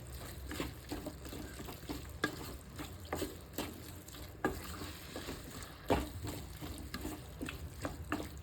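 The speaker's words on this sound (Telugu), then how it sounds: "ఇప్పుడు దీన్ని మంచిగా కలుపుకుందాం" Spoon stirs and scrapes through a curry after ginger garlic paste, turmeric and onion are added, soft irregular scraping knocks over a low background sizzle, close but fairly quiet, with no voices.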